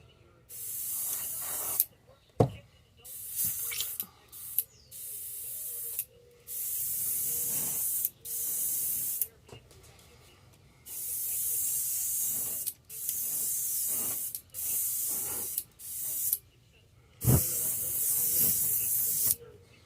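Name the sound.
spray painting a fishing lure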